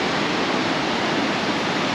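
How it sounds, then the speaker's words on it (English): Upper Yosemite Falls, the tallest waterfall in North America, pours with a loud, steady roar of rushing water, a dense unbroken wash of noise with no voices. "Me and Bryn finally made it to Upper Yosemite Falls, the tallest waterfall in North America"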